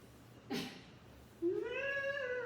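A short breathy sound is followed by a drawn-out, rising-and-falling cat meow, close by in a quiet room.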